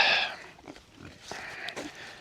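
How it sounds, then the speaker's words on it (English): Pigs on a regenerative farm grunting and squealing nearby as they are let through an opened fence, with a loud burst at the start and scattered snorts after, no talk. "let these pigs come on through"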